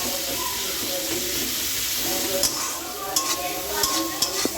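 Chilli, turmeric, garam masala and salt being fried and stirred in a pan, with a continuous sizzle broken by a few sharp spoon scrapes and clinks toward the end.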